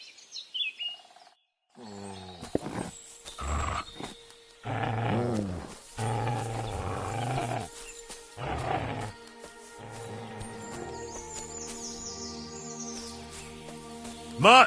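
A dog growls and snarls in Kingdom Come Deliverance 2, several rough bursts close by, mixed with game ambience, bird chirps and other effects.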